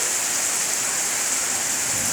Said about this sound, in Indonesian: Hujan deras, angin kenceng ya.